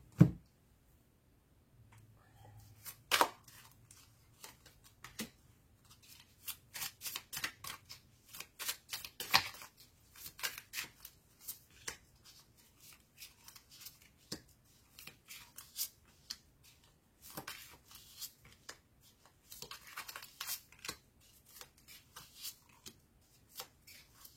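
Tarot cards are shuffled and drawn for a reading, giving a long series of soft crisp card riffles, flicks and slaps, close but quiet, in irregular bursts with brief pauses and no talking.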